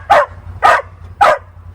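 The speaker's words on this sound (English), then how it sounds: "That's my dog." Three loud dog barks, evenly spaced about half a second apart, close to the microphone over a low steady hum.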